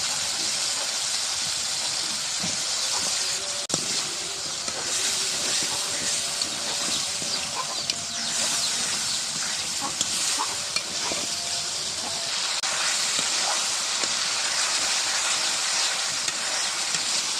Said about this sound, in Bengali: মশলা কষানির সাথে আলুটা দিয়ে দিলাম